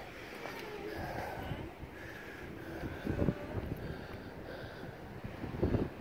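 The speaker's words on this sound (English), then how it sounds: "that wind is blowing up here" Gusty wind at the Grand Canyon buffeting the microphone, a steady low rumble with stronger surges, while people talk faintly underneath.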